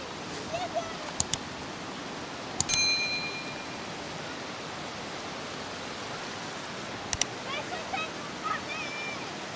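Steady broadband rush of a waterfall heard close by on a cool, sunny day, a constant wash of falling water with a few brief knocks and faint chirps over it.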